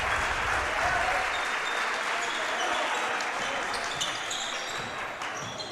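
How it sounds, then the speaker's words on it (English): Waltonville fans applaud steadily at a boys high school basketball game, a broad wash of clapping filling the gym that fades slightly toward the end, with faint squeaks and bounces underneath. "the Waltonville fans give them a round of applause"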